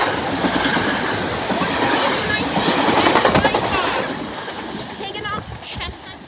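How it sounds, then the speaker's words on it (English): Train pulls in on the rails at Elkins with loud clattering wheels and rumbling close by, ending with some squeals and a person talking over the noise. "Train 345 just west coming in."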